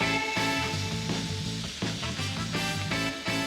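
Cherry tomatoes, squash and eggplant with thyme and a bay leaf cooking in a pan, a steady close sizzle and crackle of frying under soft background music, with no talking.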